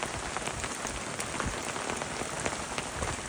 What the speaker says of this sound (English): Oh, it's fucking hailing.